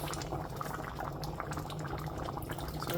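Oha soup bubbling steadily in a pot, a dense continuous simmering boil with soft popping, close and steady throughout with no talking.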